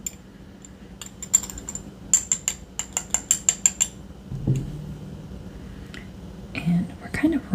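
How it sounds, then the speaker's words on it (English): Spoon stirring dried blue sage in a jar, a series of close, crisp clicking taps and light scraping, with quiet soft sounds and small clinks toward the end. "give it a stir, loosen it up a little bit, make sure it's not clumping"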